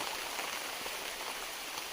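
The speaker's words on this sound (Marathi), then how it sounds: "पाऊस झिरझिर टिरटिर पाऊस पडताय" Steady light rain pattering softly and continuously, a fine even hiss of drizzle with no voices.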